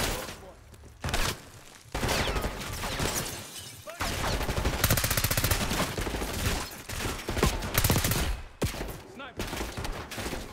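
Enemy gunfire in Call of Duty Black Ops 6, with loud, dense bursts of automatic fire running almost continuously through a prison breakout fight, broken by short lulls and mixed with game effects.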